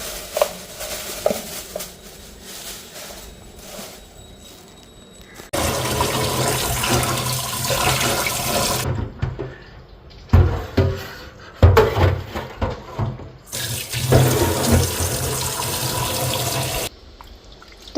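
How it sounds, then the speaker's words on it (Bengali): Goat meat being washed under a running kitchen tap, water gushing and splashing in loud bursts with brief pauses between, no talk. "এখন এই যে মাংসটা ধুয়ে নিই।"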